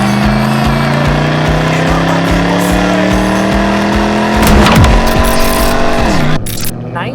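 A 1998 Pontiac Trans Am WS6 with an LS1 V8 and automatic transmission pulls hard under loud, rising engine drone. The revs climb steadily, then drop abruptly as it shifts or lifts near the end.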